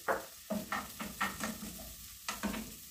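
A small onion frying in olive oil for a carne seca filling, sizzling close by with a run of quick, repeated scraping strokes from a spoon or spatula moving it around the pan.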